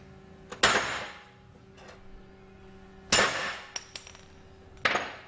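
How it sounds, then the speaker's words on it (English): Three hard, ringing metal whacks of a hammer on a drift knocking out a cam bushing on a vintage Triumph engine case, spaced a couple of seconds apart with short decays and a few lighter taps between. "a couple of really good hard whacks with the hammer and the drift is better than 20 little shots"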